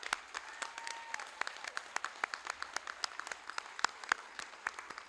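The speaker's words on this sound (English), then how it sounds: "Let's give them a round of applause for that" An audience at a graduation claps in a round of applause, scattered sharp hand claps at moderate distance forming a loose, steady rhythm for several seconds.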